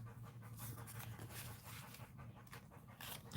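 A dog pants steadily and close by in a rhythmic run of quick breaths, with no talking over it.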